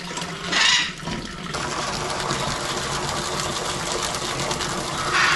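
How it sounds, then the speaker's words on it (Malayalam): A pond filter motor hangs just above the water in a newly built backyard pond in Kerala and runs with a steady, loud, whirring hum mixed with rushing water throughout. "നമ്മൾ ഫിൽട്ടർ മോട്ടറിനെ ഇറക്കി വെള്ളത്തിൽ വെക്കുവാണ് കേട്ടോ"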